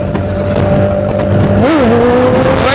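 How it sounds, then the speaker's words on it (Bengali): Loud engine drone of two superbikes, a Kawasaki ZX-10R and a TVS Apache RTR, close by, with a rising rev and pitch shift as they pass, continuous throughout. "दोनों बाइक आ रहे हैं एक साथ,"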